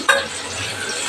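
Onion and chili frying in oil in a home kitchen pan, a steady close sizzle with a brief bright stir or clatter near the start, then an even crackling hiss throughout.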